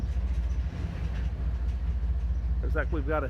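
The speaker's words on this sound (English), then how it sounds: "CSX coal train moving out right now." A CSX coal train moving out of a train yard near a depot, a steady low rumble throughout with someone talking briefly near the end.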